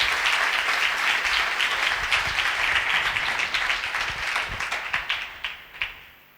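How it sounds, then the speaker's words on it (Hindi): A church congregation claps loudly together in a dense burst of applause that holds steady, then thins into scattered separate claps before stopping. "आओ मुकद्दसा मरियम की शान में तालियां बजाएं जोरदार"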